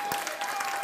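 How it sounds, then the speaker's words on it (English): Brief burst of audience applause on a dating show set, a busy, steady patter of clapping with a faint steady tone running underneath. "a round of applause, ladies and gentlemen"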